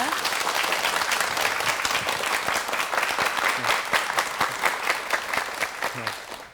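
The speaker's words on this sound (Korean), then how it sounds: "박수로 강의 청해 주시기" Studio audience on a Korean morning television talk show applauding a psychiatrist's lecture, dense sustained clapping from a crowd that holds steady and begins to thin toward the end.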